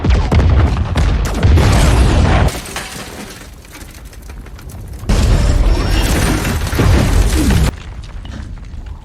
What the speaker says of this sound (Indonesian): Ranjau panas pun diaktifkan